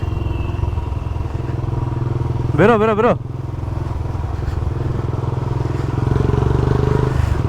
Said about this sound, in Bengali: বুলেট সাইলেন্সার বাজছে।